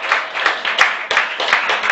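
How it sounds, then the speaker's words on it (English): Steady, dense applause from a live audience in Cardiff welcoming performer Alan Gaffey to the stage, close and loud, with a brief cheer near the middle and the clapping sustained throughout. "big round of applause for Alan Gaffey"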